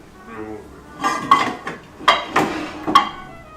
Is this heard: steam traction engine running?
no